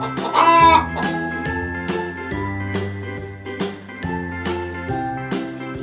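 Hen clucking sound effect: a series of short, bright clucks repeats in an uneven rhythm, with a tinkling chime near the start.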